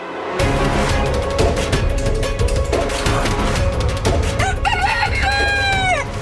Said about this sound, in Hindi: अर्थात इस मुर्गे ने समय से पहले बांग दी है।